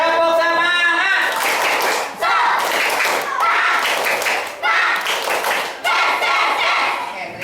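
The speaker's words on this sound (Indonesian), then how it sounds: "kita tepuk semangat dulu" A primary school class in Indonesia stands and performs a rhythmic group clapping chant, bursts of loud unison claps and shouted voices repeating in short phrases with brief pauses between sections, close and energetic.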